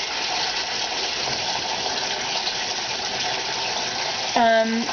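Warm water pours steadily from a tap in a continuous gushing rush, close and even, with a short voice near the end.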